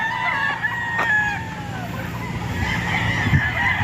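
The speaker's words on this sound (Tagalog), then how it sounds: "Napakarami pong manok." Many gamefowl chickens and roosters crowing across a farm breeding area in San Pablo, Laguna, overlapping crows near and far over a constant busy background of clucking and farm noise.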